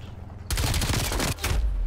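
Rapid automatic gunfire from Call of Duty Black Ops Cold War gameplay, loud and dense bursts starting abruptly, briefly breaking off, then resuming, with no talking over it.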